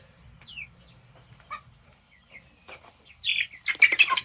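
Hens in a homestead coop give scattered chirps and soft clucks that build into a louder, busier cluster of calls near the end, with a faint low hum underneath.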